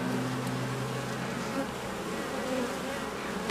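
Honey bees from a mellow, lightly smoked, queenless colony buzz over a hive frame in a continuous close drone with a steady hum, heard alone.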